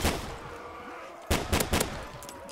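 Gunfire in Call of Duty Black Ops 3 Zombies on a SpongeBob Rock Bottom map: a few sharp shots in quick succession after a stretch of game ambience, moderately loud and close.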